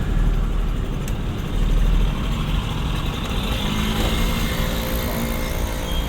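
A car engine running during a driving lesson, a steady, fairly loud mechanical drone with slight surges in the first few seconds and no speech.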